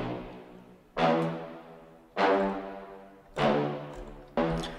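Two stacked synth brass layers, one deeper and one higher, swelling in four sustained chords with soft attacks that fade before each new entry, moderately quiet with no voices.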